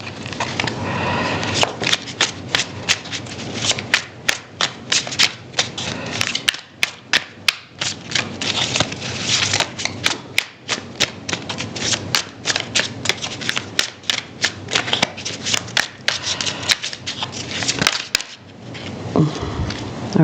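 Tarot cards are shuffled close up for about twenty seconds, with steady riffling and rapid snapping clicks that repeat in bursts and no talk.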